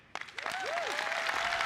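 Conference audience at a DockerCon general session breaking into applause after a talk, the clapping starting suddenly and swelling into a dense, sustained roar, with a brief rising and falling tone at the start.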